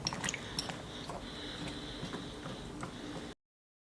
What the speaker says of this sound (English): Now we're just going to mix up our carrots and try to get as many of them under the liquid as we can.